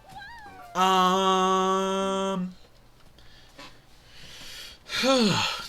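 A cat in Super Mario Bros. Wonder lets out a long, loud, sustained meow, then goes quiet and gives a shorter wavering cry near the end, with no speech over it.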